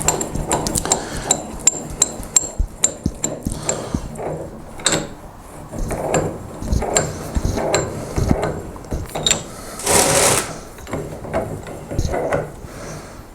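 A 4.5-inch Doyle ductile iron bench vise is cranked open with repeated metallic clicks and clanks, a quick rhythmic run early on, then slower knocks and a scraping rush, loud and close.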